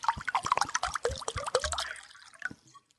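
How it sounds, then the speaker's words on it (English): Spring water pours from one glass bottle into another, a close burst of gurgling and trickling that tapers off after about two seconds, leaving a couple of faint drips. "the sound of spring water being poured from one glass bottle into another"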